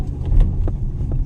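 A car rumbles along at low speed through the streets of Estepona while hunting for a parking spot, a steady close engine drone with a few brief bumps and no talk.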